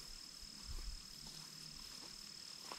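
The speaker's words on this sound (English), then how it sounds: "You can hear the bugs chirping in the distance." Insects, likely crickets or grasshoppers, chirp faintly and steadily in the distance across a remote patch of wilderness along the Westmoreland Trail, a thin continuous high buzz over low rumbling with a brief louder thump near the start.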